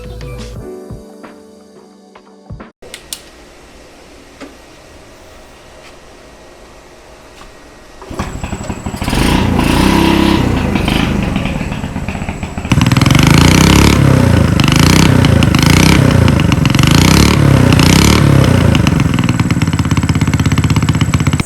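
A customized Honda Super Cub C50 motorcycle engine, loud and close, idles roughly, then revs up hard in sustained, pulsing bursts that grow louder toward the end, with no talking.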